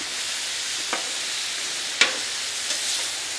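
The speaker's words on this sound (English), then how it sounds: "Do a nice quick sear. Mix it all up" Steak tips with mushrooms, onions and peppers searing in a hot pan give a steady broadband sizzle, with a few sharp utensil scrapes as the mix is stirred.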